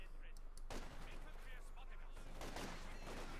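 Rapid machine gun bursts and artillery thuds in a Company of Heroes 2 battle, a dense continuous barrage with a game caster talking over it.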